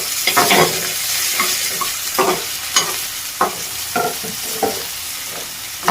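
Beans and thinly sliced potato stir-fried in a pan for an aloo carrot rice, with steady sizzling and repeated scraping strokes of a spoon mixing the vegetables, close and fairly loud, no talking.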